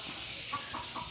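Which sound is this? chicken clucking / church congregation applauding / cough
chicken clucking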